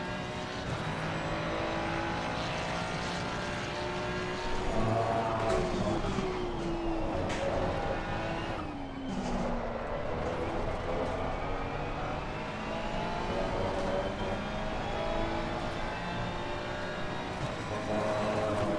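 A Ferrari GT race car in a racing video game drones loudly and steadily, its engine pitch climbing and falling through gear changes and briefly dipping as it lifts off, then pulling hard again.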